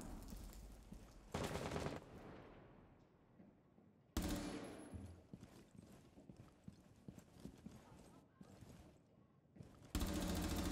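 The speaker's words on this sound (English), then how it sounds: "My gun keeps shooting on its own." Rapid bursts of automatic gunfire from a gun firing on its own in a video game, several loud sharp volleys separated by quieter gaps, close and harsh.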